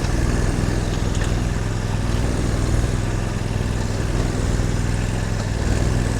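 An 8x8 Argo vehicle drives over rocks in the Australian high country, its engine holding a loud, continuous mid-pitched drone with no talk over it.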